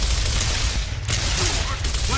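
Rapid pistol shots fired in a Gears of War match as Marcus, a dense crackling burst of gunfire running continuously under game noise.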